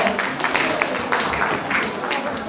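Brief, moderately loud applause from an audience at a young engineers' program, welcoming a speaker; a couple of seconds of steady clapping and crowd noise.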